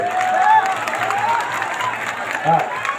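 An audience claps steadily at a felicitation ceremony for Geniben in Patan, the applause forming a dense, moderately loud wash while a voice talks over it.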